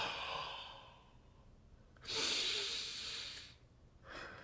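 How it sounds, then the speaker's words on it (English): Slow, deep human breaths close to the mic: a long airy exhale, a pause, then a strong breath in and out, and another breath starting, with no talking. "Make them real breaths"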